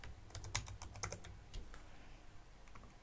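Fingers type quickly on a computer keyboard, a close, crisp burst of clicking keystrokes in an irregular rhythm that slows and thins toward the end, with no voices.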